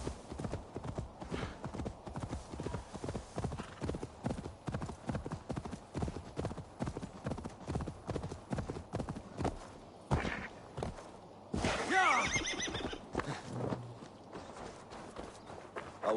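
Hooves clip-clop steadily as a horse walks and trots in the video game Assassin's Creed Valhalla, followed by a brief neigh, with quieter game sounds beneath.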